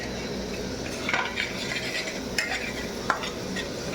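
Egg curry masala frying in oil in a dhaba-style pan, a soft steady sizzle with occasional scraping stirs and light clinks of a spoon against the pan.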